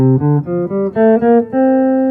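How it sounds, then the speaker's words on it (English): A single melodic instrument plays an ascending dominant sus scale from C, seven distinct notes, each clear and separate, the last one held, loud and close. "the dominant sus scale in key, so we would start it from C, would sound like this"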